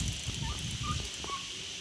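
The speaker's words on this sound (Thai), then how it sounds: "นั่นก็คือไก่ ไก่งวง ชื่อมันนั่นนะ" A turkey gobbles close by, with short warbling calls over a steady wet outdoor background.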